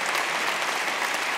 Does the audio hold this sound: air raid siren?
no